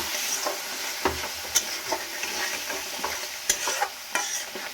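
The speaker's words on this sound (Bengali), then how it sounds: "আমি এখানে মিক্সিং জারে যে জলটা আছে মশলার পরে সেই জলটা কিন্তু দিয়ে দিয়ে বারবার কষিয়ে নিচ্ছি" Spice masala with water sautés in a pan, a continuous hiss and bubble with regular scraping strokes from a spoon stirring it.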